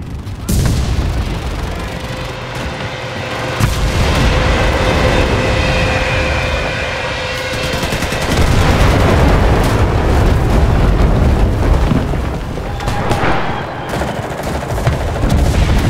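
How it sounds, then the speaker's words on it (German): Artillery and battlefield fire in the World War II shooter Enlisted, set at the Battle of Moscow: heavy booms and rolling rumbles under continuous machine-gun bursts, loud and sustained throughout. "die Artillerie!"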